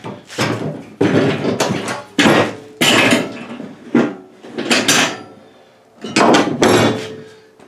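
A plow blade's steel cutting edge is tipped up and falls away, giving a string of sharp metallic clanks and thuds at irregular intervals, close and loud, with no talk over them.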